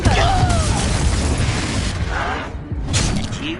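A Confringo fire spell explodes in the Hogwarts Legacy video game, producing a loud booming blast with crashing, shattering debris, followed by a second burst of impact noise.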